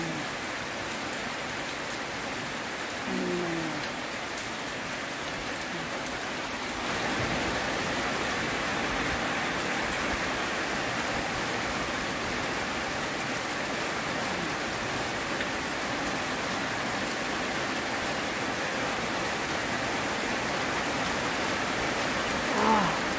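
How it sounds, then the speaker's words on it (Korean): Heavy rain falling on rice paddies ahead of a typhoon, a dense, steady hiss of drops that stays constant throughout with no other sounds standing out. "비가 너무 많이 오는데"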